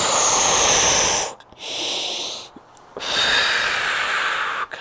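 Long forceful breaths exhaled during a Pilates exercise, close and loud, in two sustained airy rushes separated by short pauses, with a third breath starting near the end.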